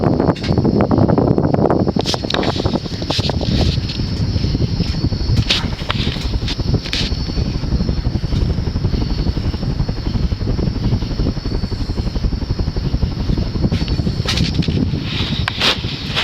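An Evergo Banana Fan 52-inch spinner ceiling fan with 15-degree-pitch blades runs at about 200 RPM, giving a steady, loud, even rush of moving air that holds at one level throughout.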